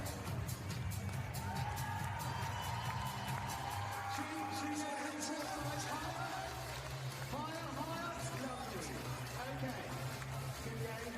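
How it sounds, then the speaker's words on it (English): A large crowd at a show-jumping event cheers and claps continuously, with whoops and a voice talking over the steady roar. "Give them a round of applause."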